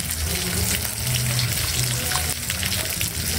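Sinigang with okra and chili stirred in a pot, a steady bubbling, sizzling simmer with soft scraping of the spoon, close and continuous.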